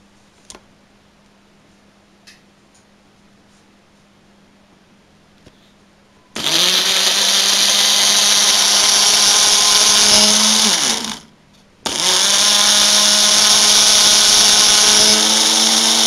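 A blender whirs loudly, blending yogurt with green coriander, green chili, roasted cumin, salt and water into a thick dip. It runs in a long burst, stops briefly, then starts again after a quiet stretch with no talking.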